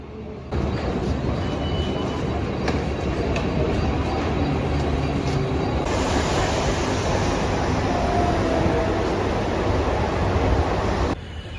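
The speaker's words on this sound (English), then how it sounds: "I have made to the railway station now." Loud, continuous rumble and clatter of a train moving through a station, with a broad roaring wash that swells midway and cuts off near the end.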